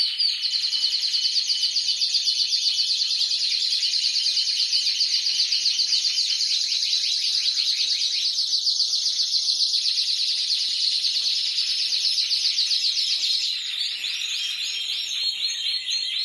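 Pet birds bred at home chirp and twitter in a dense, continuous chorus throughout, bright and fairly close, with no talking over it.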